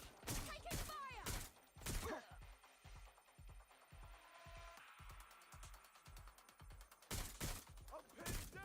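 Rapid bursts of automatic gunfire in Watch Dogs Legion, loud and close, with sharp cracks at the start and end and a denser, steadier volley in between.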